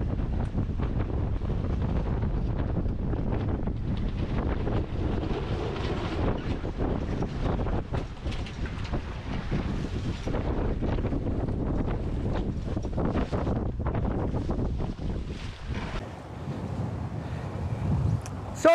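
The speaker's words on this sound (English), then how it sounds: "We're sailing close hauled right now." A sailboat sailing close hauled, with steady strong wind buffeting the microphone over a continuous low rush of hull and water noise, loud and unbroken throughout, with no talk.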